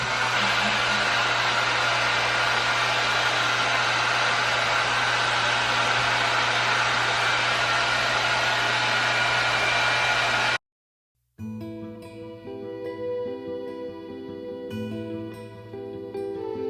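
A Feekaa kids hair dryer runs loud and steady with a constant airflow roar and low motor hum for about ten seconds, then cuts off abruptly, followed by a brief silence and other tonal sound.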